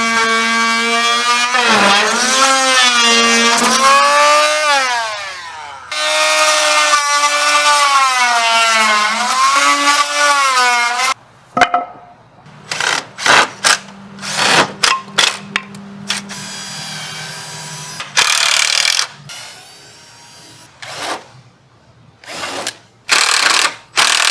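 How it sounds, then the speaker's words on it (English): Small oscillating multi-tool cuts through wooden rails for a DIY camper photo booth chassis, a loud sustained whine rising and falling in pitch over the first half, then choppy bursts and stops as cuts finish. "So I'm going to chop those rails using just my little sonic tool."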